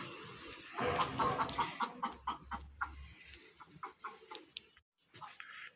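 Chickens penned in a yard at a neighbourhood farm cluck close by in a busy, uneven series of calls, with one louder squawk early and quieter intermittent clucks trailing off.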